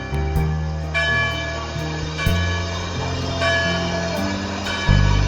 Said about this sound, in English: College bells chime as I join the mass of new students